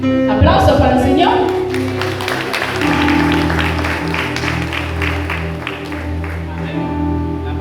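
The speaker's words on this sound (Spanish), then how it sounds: "Aplauso para el Señor" Church congregation clapping fills the room under sustained musical tones, with some voices mixed in; steady and fairly loud throughout.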